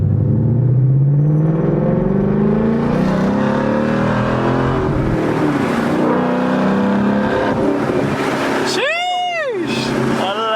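A 2018 Mustang running on E85 accelerates hard, its engine note rising loud and close inside the car while people talk over it, with a sharp sweeping whine near the end.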